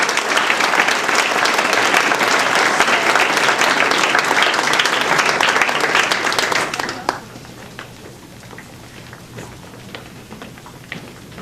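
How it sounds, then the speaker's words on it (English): A school academic awards ceremony audience gives a sustained, loud round of applause that fades after about seven seconds to scattered claps. "Please give these young leaders a wonderful round of applause"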